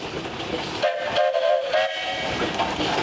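A steam engine whistle at the Sycamore Steam Show sounds in a couple of short toots and a held blast, fairly loud over the rumble and hiss of machinery and outdoor crowd noise.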